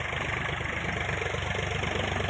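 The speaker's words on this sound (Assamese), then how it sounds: "আমাৰ এয়া ট্ৰেক্টৰ আহিছে বিলাহীতলী।" A tractor engine chugs steadily at a low idle-like rumble as it arrives at a tomato field in rural Assam, a constant close drone with a pulsing low throb and no voices.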